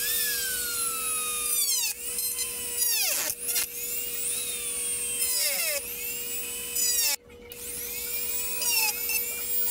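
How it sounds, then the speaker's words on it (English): A high-pitched Dremel rotary tool whines continuously, its pitch dipping and rising as it cuts resin drips off a carbon-fiber-wrapped car part in short passes, close and loud. "So I'm just going to break out the Dremel"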